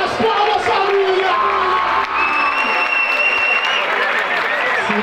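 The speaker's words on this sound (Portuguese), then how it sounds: "Cadê as palmas, família?" A crowd at a rap battle final claps and cheers loudly, with whoops and shrill whistles rising over the steady applause throughout.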